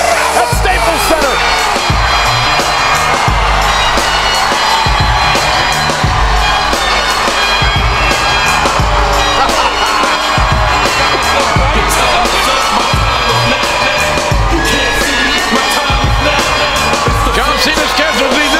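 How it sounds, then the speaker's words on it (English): A capacity crowd roars and cheers steadily in a packed Staples Center arena at a wrestling event, loud and continuous, with an announcer's voice talking over the noise. "Capacity crowd on its feet at Staples Center."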